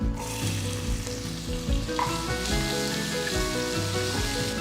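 Steady crackling sizzle of mustard seeds and onion frying in hot oil, close up, with small pops throughout and no voices.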